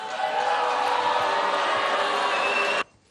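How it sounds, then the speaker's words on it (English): Applause mixed with booing from the CPAC conference crowd, a dense, loud wash of clapping and shouting that holds steady for nearly three seconds before cutting off abruptly. "Mixed applause and boos as Ron Paul was announced over the weekend."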